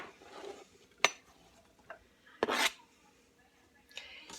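Leftover cut-up steak pieces dropped into a soup pot, a couple of sharp clinks and a scraping rattle of metal against the pot, close and otherwise quiet.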